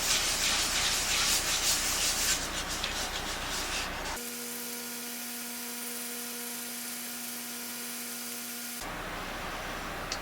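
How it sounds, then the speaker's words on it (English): Steady abrasive rubbing of hand sanding on a Telecaster hollowbody guitar body, continuous and close, with a brief quieter stretch of faint hum in the middle before the scraping resumes. "You don't really have to do a lot of sanding here, you just kind of want to go over it."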